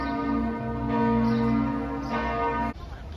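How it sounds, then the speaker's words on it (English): Church bells peal continuously above Zurich, a dense sustained ringing with steady overlapping strikes that fill the air before cutting off abruptly near the end. "And the bells are going crazy."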